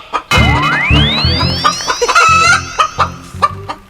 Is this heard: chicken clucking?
yes